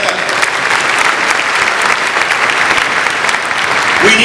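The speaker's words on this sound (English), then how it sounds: "Give them a round of applause for that." An audience at a Jeb Bush political event on foreign policy applauds the senators with loud, continuous clapping, dense and unbroken from start to finish.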